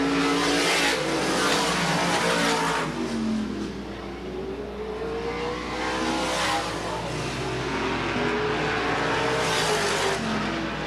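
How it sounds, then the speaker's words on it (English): Supermodified race cars lap Sandusky Speedway, engines roaring loudly and continuously as they swell and fade past in repeated passes, with tires faintly squealing through the turns. "These guys just fly around the racetrack"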